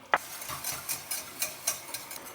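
Flour being whisked into melted butter for a roux in one pot, a soft continuous hiss broken by light, rhythmic scraping strokes of a whisk against the pan, fairly quiet and close.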